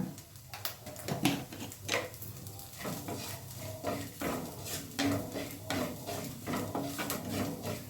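Repeated scraping and stirring of a frying mixture in a clay pan with a faint sizzle underneath, steady and close, with occasional clinks of a utensil against the pot.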